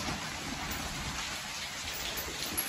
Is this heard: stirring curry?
no